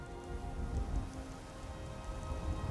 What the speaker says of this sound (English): At least the rain provides some cover.